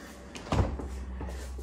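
Closet doors swing open in an art studio set up inside a closet, a soft wooden knock and thud midway followed by faint creaking, quiet and close.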